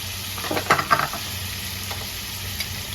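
Soybean curry cooking in a pan sizzles softly and steadily, with a couple of brief scraping stirs near the start and no talking.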